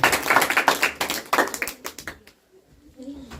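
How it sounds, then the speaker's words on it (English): Short burst of clapping from a small group at a Gita recitation competition for adults and kids, close and fairly loud, thinning out and fading to quiet after about two seconds. "Let's give a round of applause to Arush"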